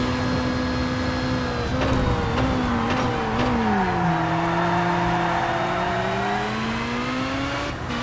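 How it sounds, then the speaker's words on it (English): Race car engines in the TOCA Race Driver 3 video game during a DTM series race drone loudly and continuously, pitch dipping and climbing through gear changes and corners, with faint tire squeal and no talking. "Here we go for the final lap of the race."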